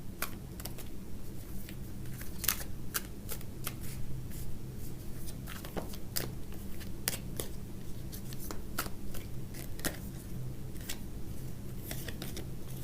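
Tarot cards shuffled for a pick-a-card love reading, giving a steady papery rustle with sharp irregular snaps and flicks over a low, constant background hum, fairly close and with no talking.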